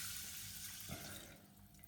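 Steady rushing of 500 ml of cold water pouring into a pot of basmati rice, continuous and close, fairly quiet, with no voices.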